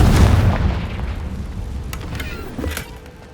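A Confringo fire spell from Hogwarts Legacy erupts as one loud booming blast, its rumble fading over a few seconds with a short crackle near the end.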